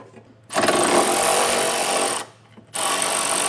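A power tool removes a 10mm bolt from a trailer hitch bracket on a 2021 Lincoln Aviator, whirring loudly in two bursts, the first long and steady, then a brief pause before it starts up again, close and alone.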